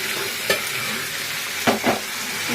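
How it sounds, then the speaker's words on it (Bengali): Banana flower being sautéed in a pan with a ground paste of green chili, ginger, cumin and coconut: a steady sizzle broken by a few short stirring scrapes near the middle and end, with no talk. "এবার এটাকে কষাবো, একটুখানি কষাবো।"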